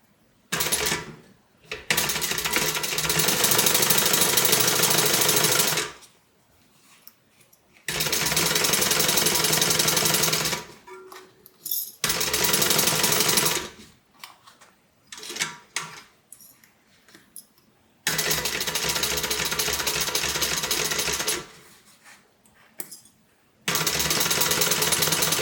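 A sewing machine stitches a seam alongside the stabilizer on a multi-compartment tote bag, running in several loud, steady bursts of a few seconds each, separated by short quiet pauses.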